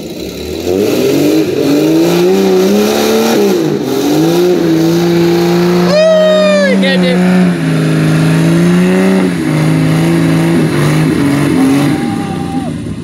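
Side-by-side off-road vehicle revving hard at a sand pit, engine pitch rising and falling through several loud, close surges, with a sharper high whine in the middle and faint outdoor chatter beneath.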